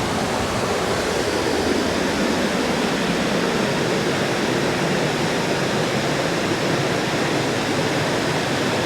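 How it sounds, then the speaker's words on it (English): A constant, close rush of water spilling over the Mammoth Spring dam in Arkansas fills the scene, a dense, even roar that holds steady throughout with no talking. "There's just something about falling water that's amazing."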